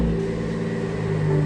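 A BMW 440i engine runs with a steady, close, low droning hum that holds at an even pitch throughout the short stretch, with no voices.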